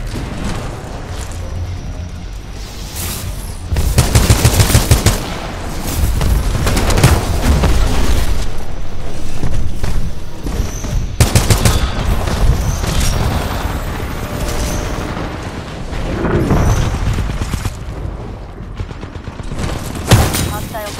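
Splitter rifle gunfire in the Titanfall 2 multiplayer shooter, with loud repeated bursts of shots and booming impacts spread across the clip, mixed with game effects and an occasional voice.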